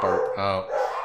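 Two dogs bark loudly and close, with harmonic, howling barks in quick succession.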